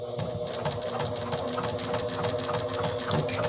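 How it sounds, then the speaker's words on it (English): A sewing machine stitches fabric for a small handmade bag, giving a steady, fast mechanical whirring and rattling that runs quietly and evenly for a few seconds, with no talking. "now I'm just going to sew the other side"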